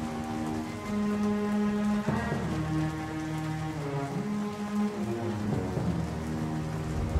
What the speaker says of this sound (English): the sound of thunder takes time to reach you based on distance